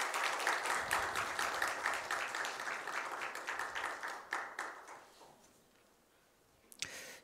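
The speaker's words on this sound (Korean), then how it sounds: "다시 한번 박수해 주십시다." A church congregation applauds during a Sunday worship service, a dense steady clapping that fades out toward the end, followed by a brief sharp sound near the close.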